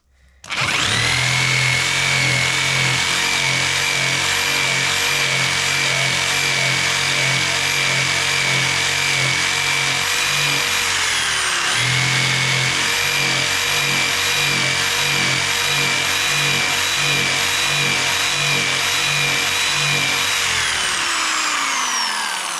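An electric jigsaw cuts continuously during fireplace demolition work, loud and close with a rapid buzzing drone, briefly dipping in speed midway and winding down at the end, no talk.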